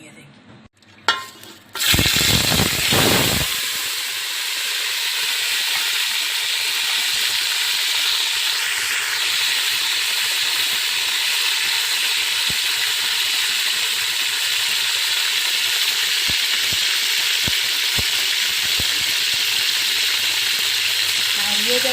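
Chicken dropped into hot oil on a stove, a brief clatter and burst at the start giving way to a loud, steady, close sizzle of frying that holds without a break.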